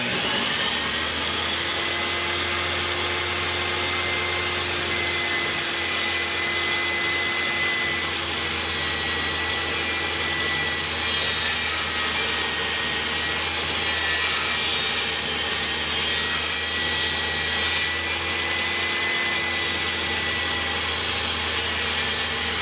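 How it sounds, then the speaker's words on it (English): A table saw rips through a piece of plywood with a steady, sustained whine and a low hum, running unbroken for the whole stretch with no talking. "So first, I'm going to demonstrate how to rip this piece of plywood."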